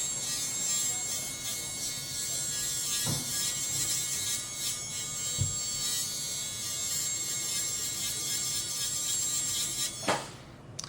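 A dental handpiece polishing a veneer gives a steady high-pitched whine that runs throughout, with a few brief clicks and taps and no talk.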